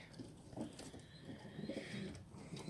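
A captured stray carrier pigeon coos softly in low, rounded murmurs, faint and close with light background noise.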